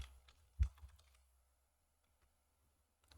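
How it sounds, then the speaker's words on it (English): Someone types on a computer keyboard. A few quiet key clicks come early, then the room falls almost silent. "just type in pfBlocker"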